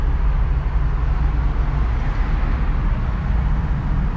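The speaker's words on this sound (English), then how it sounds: "Traffic everywhere." Constant low road traffic rumble heard from inside a car, a dense steady wash of passing vehicles with no talking.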